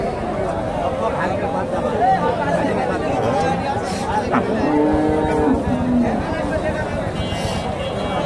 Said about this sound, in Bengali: এই যে গাভিটা